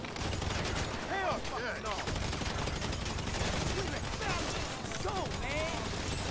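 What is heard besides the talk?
gunfire in video game GTA Online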